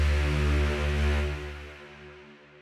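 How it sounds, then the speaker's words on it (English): A low string layer from an Abbey Road string library holds a deep, sustained harmonic chord that swells, then gradually fades, heard alone with no voices. "The first one is this Abbey Road low string layer."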